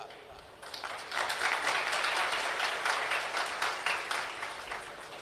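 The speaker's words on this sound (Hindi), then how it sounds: "अब ताली तो बजा रहे हो" A crowd at a Hindu spiritual discourse claps steadily for about five seconds, a dense, even patter of many hands that swells quickly and holds without a break.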